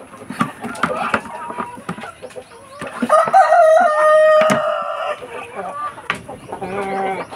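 Free-range breeder chickens cluck nearby and a rooster lets out a long crow in the middle, with people talking over and between the calls.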